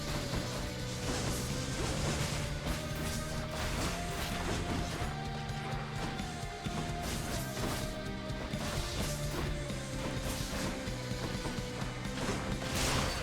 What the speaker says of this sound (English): now that we're in the third phase, it's going to do 3 big smashes each time